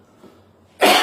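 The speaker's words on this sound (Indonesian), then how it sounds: "Agak batuk nih, masih belum hilang nih." After near silence, one short, sharp cough bursts out close by right at the end.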